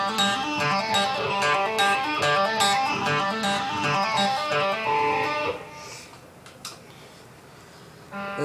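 An electric guitar run through a phaser plays a riff, a fast run of picked notes with a swirling, sweeping tone that stops abruptly, leaving a few faint scattered notes.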